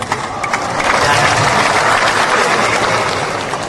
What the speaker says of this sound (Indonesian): Jangan tepuk tangan, ini bukan gereja Pantai Kosta